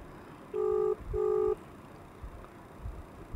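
Two short electronic beeps sound in quick succession, like keypad tones from a phone, over faint background rumble.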